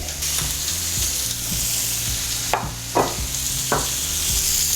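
Shrimp and garlic sizzle steadily in a hot pan for shrimp scampi, a constant bright frying hiss broken by several louder spatula scrapes and stirs near the end, with no talking.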